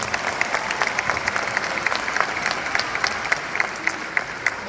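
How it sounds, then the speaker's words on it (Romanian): Concert crowd at Sala Palatului applauding, a loud, continuous roar of many hands with sharper individual claps popping out rhythmically on top. "Da, aplaudați, merită"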